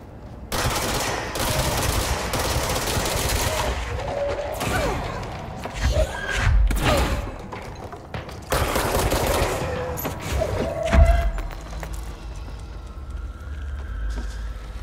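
Gunfire from a weapon in the game Control: long stretches of rapid automatic shooting broken by short pauses, with heavier thumps and impacts mixed in.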